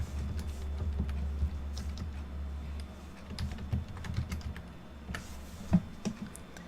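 Keys click on a computer keyboard in quick, uneven bursts of typing, close and fairly quiet, with short pauses between strokes and no voices.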